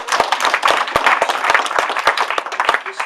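An audience at a Calderdale Save Our Services founding meeting breaks into brisk, close applause, individual claps sharp and distinct throughout, sustained at a steady level.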